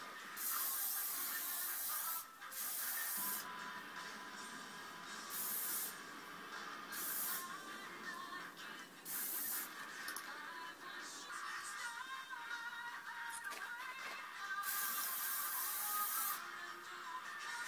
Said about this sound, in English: get your hairspray and to start moulding it into the sort of mohawk sort of shape